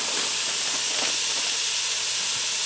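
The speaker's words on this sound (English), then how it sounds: "And I'm going to get this browning up." Slightly frozen ground beef searing on the sear/sauté setting of a Ninja Speedi, a steady loud hissing sizzle close up with no talk.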